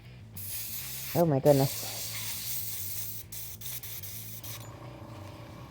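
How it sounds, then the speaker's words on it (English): A short airbrush-style spray of purple paint onto a miniature figure gives a couple of brief hissing bursts, followed by a steady faint hiss. A person speaks briefly. "See if I can get that to spray all the way through."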